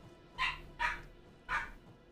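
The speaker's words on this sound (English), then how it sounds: "Sorry about the dog." A dog barks indoors, three sharp, fairly close barks in quick succession with brief quiet gaps between them.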